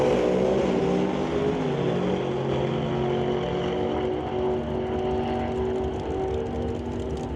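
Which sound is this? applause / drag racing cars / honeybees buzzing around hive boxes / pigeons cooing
drag racing cars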